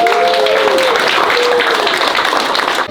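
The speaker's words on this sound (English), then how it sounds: "Give everyone a round of applause just for showing up." An audience at a real estate company talk gives a sustained round of applause that fills the space evenly for about three seconds, with a few voices rising over the clapping before it stops abruptly.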